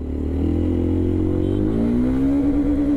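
A Yezdi Adventure motorcycle pulls away on a road test, its engine loud and close with a steady throb that climbs in pitch as it accelerates through the gear, droning continuously with no voices.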